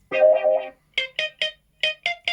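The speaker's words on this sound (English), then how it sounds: "So this is with just wah pedal." An electric guitar played through a wah pedal gives a sustained vowel-like swell. A series of short, sharply plucked notes with the same filtered, quacking tone follows in a broken rhythm, close and clear.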